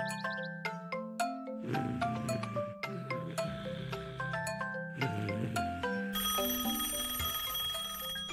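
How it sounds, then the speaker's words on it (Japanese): A cartoon telephone ringing in a children's animated show about a tow truck: a bright, repeated chiming ring in rapid bursts with tonal bell-like notes, shifting to a higher shrill ring near the end, clear and alone. "トム、起きて。 電話だよ。"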